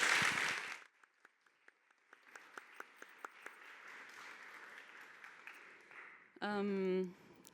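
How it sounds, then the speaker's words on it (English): Applause from a seated audience at an evening talk event rises briefly and then thins into scattered individual claps, moderately faint, with an electronic tone sounding near the end. "Please give a huge warm round of applause and welcome to Jaya, Matt, and Alia"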